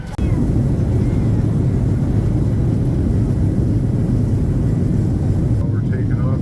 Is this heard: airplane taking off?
yes